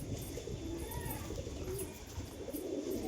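Young female pigeon cooing among other pigeons, a low steady murmur of coos close by with faint chirps over continuous background noise.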